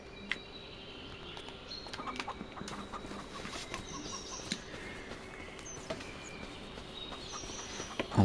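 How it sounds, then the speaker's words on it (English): Chickens cluck in scattered, sparse bursts within the Farming Simulator 25 video game, mostly faint against a quiet ambient background, with a louder thump right at the end. "You can hear the clucking."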